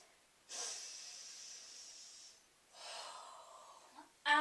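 Two long, close breaths during a core strength yoga session: a sustained airy exhale, a pause, then a second breath, ending in a short sharp burst, no speech.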